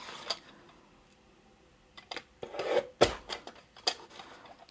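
Scissors trimming a paper strip for a 3D circle card, a few short close snips and rustling paper rubs scattered irregularly, quiet overall.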